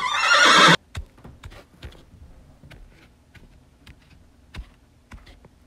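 A horse at a stable gives a loud, close whinny lasting under a second, followed by scattered light clicks and taps like hooves on a hard floor.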